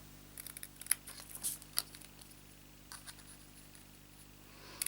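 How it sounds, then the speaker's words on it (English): Scissors snip diagonally into the corners of cardstock, a handful of short, quiet crisp cuts spaced apart against a faint background hum. "just to take your scissors and cut diagonally straight into the corner on all four"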